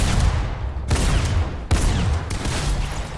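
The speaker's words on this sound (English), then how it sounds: "Fucking rapid SMG you gave me" Rapid bursts of SMG fire in a video game, loud and dense, with short breaks between three quick volleys.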